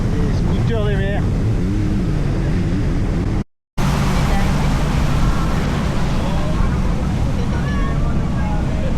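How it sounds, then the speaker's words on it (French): Jet skis run on the sea at Porto Venere, their engine drone mixed with strong wind buffeting and a distant motor whine, with a voice speaking briefly near the start. "des scooters des mers."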